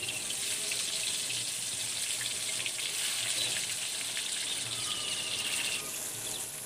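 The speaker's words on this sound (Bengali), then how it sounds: "এবার রোদ থেকে তুলে আনা আমগুলো একে একে দিয়ে দেব।" Sun-dried raw mango pieces drop into hot oil seasoned with black cumin and cardamom, giving a steady, hissing sizzle that runs continuously at moderate level with a slight dip near the end.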